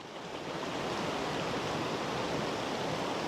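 Heavy rain pours steadily outdoors as a dense, even hiss that stays loud and constant throughout, with no voices.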